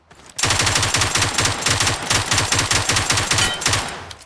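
Rapid automatic bursts of MK47 Mutant rifle fire in PUBG Mobile, loud and close, a steady rattling stream of shots running almost without pause.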